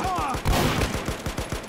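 Rapid gunfire from a weapon in a Minecraft TeamFortress match, a quick rhythmic burst of repeated shots, loud and close, continuing throughout without a break.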